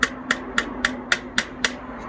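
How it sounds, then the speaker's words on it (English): Eight light, evenly spaced hammer taps ring out close by and alone as a hammer drives a pin down into a pickup coil. "you can tap it down, get your hammer and lightly"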